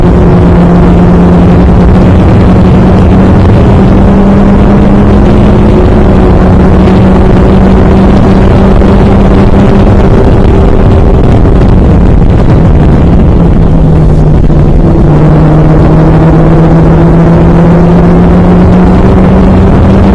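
A Classic Formula Ford race car engine drones loud and close from onboard during a wheel-to-wheel battle, its pitch rising and dipping with gear changes beneath heavy wind buffeting.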